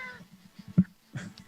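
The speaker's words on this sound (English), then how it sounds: "I hear a cat going off there." A house cat meows a couple of times indoors, short and fairly close, with faint voices in the background.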